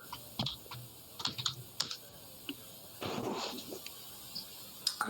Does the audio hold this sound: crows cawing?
no